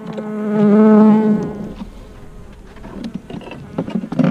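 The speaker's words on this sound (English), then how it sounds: "And what we steal here is going to be bees and all." Honeybees buzz at an opened beehive during a hive check. A loud, close, droning buzz swells over the first second and a half, then gives way to softer scattered buzzing and light rustling.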